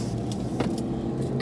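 A pickup truck heard from inside the cab while driving and turning smoothly, with a steady low engine and road hum and a few faint rattles.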